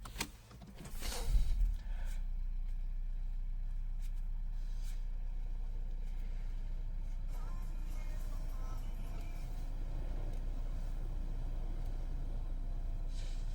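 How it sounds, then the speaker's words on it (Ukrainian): A 2012 Renault Megane III engine, 81 kW with a six-speed manual, turns over with a brief loud burst, then settles into a steady, even idle hum that continues alone. "Зараз заведемо, послухаємо, як він працює."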